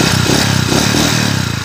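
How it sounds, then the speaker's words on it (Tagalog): A motorcycle engine runs steadily nearby, a loud rough mid-pitched putter with a pulsing rhythm, heard alone. The bike has a timing gear issue and a whine in first and third gear. "narinig nyo tong andar ng motor ni Bossing."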